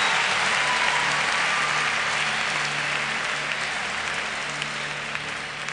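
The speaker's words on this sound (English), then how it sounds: "Somebody clap your hands to Jesus as well." A church congregation claps hands in worship, a steady, dense wash of applause filling the whole stretch without talk.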